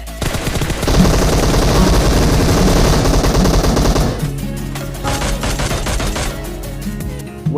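Automatic gunfire rattles in the mobile shooter PUBG Mobile, loud rapid bursts firing continuously for several seconds, then thinning into more scattered shots near the end.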